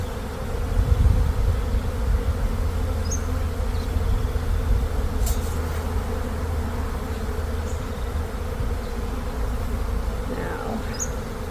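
Honey bees drone in a dense, steady buzz during a fall hive inspection, close and continuous for over ten seconds with a few individual bees passing near, no talk over it.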